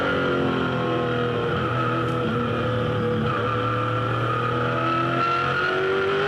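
V8 Supercars race cars racing at the Darwin Triple Crown in 2006, their engines droning loudly and steadily with shifting pitch as the pack runs lap after lap, past tyre grip late in the race.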